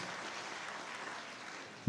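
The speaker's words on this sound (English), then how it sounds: "A round of applause." Round of applause from an audience at an assembly in Nairobi, a steady and fairly faint wash of clapping that runs throughout, with a brief thump at the very end.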